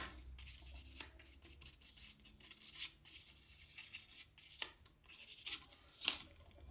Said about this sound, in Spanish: es un papel abrasivo de grano 7000